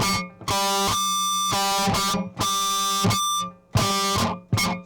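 Distorted electric guitar squeals out high, ringing pinch harmonics played with the right hand only, in a handful of separate bursts, each sustaining briefly before cutting off.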